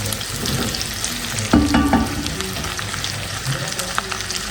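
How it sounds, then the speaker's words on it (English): Drained chicken gizzards fry in a little cooking oil for an African gizzard stew, giving a steady close sizzle with a brief thump of stirring partway through. "So I'll add some cooking oil, just a little, and then let them golden up for a few minutes"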